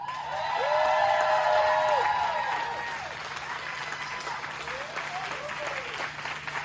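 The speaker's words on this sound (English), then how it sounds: "if you'd be so kind as to give them a big round of applause" Wedding guests at a resort reception give a sustained round of applause, dense and steady, swelling early then easing, with a few whoops and a loud voice over the clapping.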